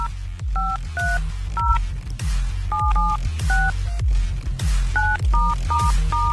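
A steady sequence of telephone keypad tones beeps in a quick, uneven rhythm over a thumping low background on a radio broadcast, each tone short and clear.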